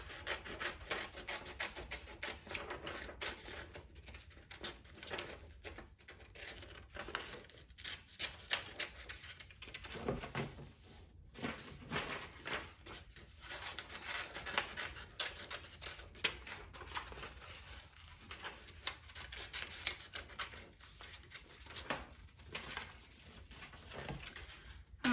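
Paper being cut out with scissors for rocket pieces of a children's craft, a steady rustling, rasping texture of snips and paper handling running close and fairly quiet throughout with no talking.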